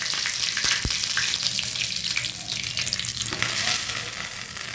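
Mustard seeds and curry leaves spit and crackle in hot oil while tempering a chutney for oats dosa, giving a dense, close sizzle that holds steady throughout with no voices.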